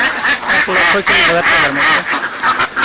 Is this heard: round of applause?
no